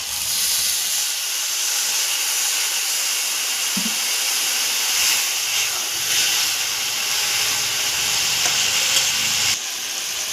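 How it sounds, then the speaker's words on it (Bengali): Water poured into a hot pan of frying spices with dried red chilli for a shrimp and taro stolon dish, giving a loud continuous close hiss of steam that holds steady throughout. "এবার আমি সামান্য জল দেবো।"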